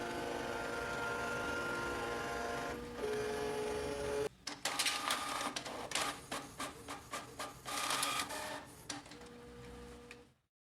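A Canon inkjet printer runs a copy: a steady mechanical hum and whir for several seconds, then a brief pause followed by a rapid series of clicking, ratcheting bursts as the paper feeds through, ending abruptly.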